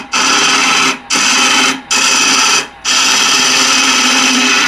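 A square end scraper cuts a wooden bowl spinning on a lathe, a loud, steady broadband shriek in three long passes separated by brief pauses, with no voices.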